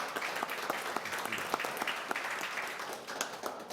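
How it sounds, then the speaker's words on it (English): A committee meeting audience breaks into steady applause, a dense wash of many hands clapping at moderate volume from across the room, sustained without pause. "So a big round of applause from me to you both."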